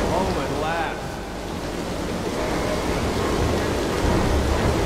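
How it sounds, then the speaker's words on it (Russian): In Dishonored, water floods and fills a chamber with a constant rushing, churning roar, loud and close, with a brief voice snatch near the start. "Водой заполняется все"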